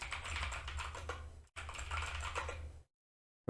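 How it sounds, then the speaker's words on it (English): Rapid typing of a password on a computer keyboard, a dense run of close clicking keystrokes with a brief pause partway, then stopping into silence. "Then we need to type a password."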